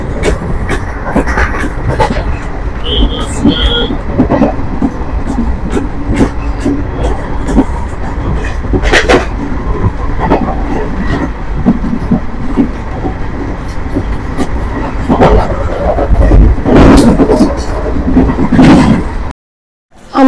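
Loud ride aboard the 13431 Balurghat Express pulling away from Khagraghat Road, steady rumbling drone with rhythmic wheel clatter and occasional squeals and knocks, ending abruptly.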